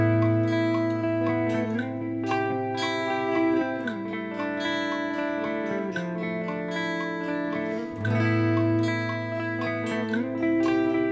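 Electric guitar recorded through an amp simulation, sounding as a steady, sustained and dense strummed tone with shifting chords, even and continuous throughout with no voices.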